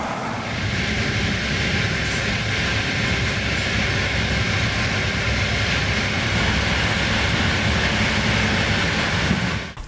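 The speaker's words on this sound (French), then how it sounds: "La locomotive attend pour s'accrocher" A locomotive waits to couple onto an Intercity night train from Trento, heard as a loud, steady rumble of engine and rail noise that holds without pause, then cuts off abruptly at the end.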